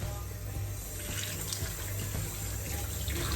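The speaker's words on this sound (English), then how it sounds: "Just rinse it properly, thoroughly, so all the bubbles goes everywhere." Tap water runs steadily into a kitchen sink being rinsed clean of a strong limescale cleaner, a continuous close splashing and hissing stream with no talk.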